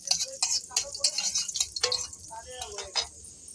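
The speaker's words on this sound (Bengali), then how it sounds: "গ্যাসটা জ্বালিয়ে নিয়েছি, দিয়ে দিয়েছি, আলু ভাজা হচ্ছে" Potatoes fry in a pan over a gas flame, with chilli, garam masala and bay leaf added as tempering. A bright, close sizzle runs under scattered light clinks and scrapes of stirring.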